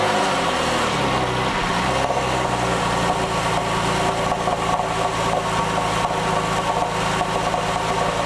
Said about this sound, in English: listen in to what it sounds like when you start this car cold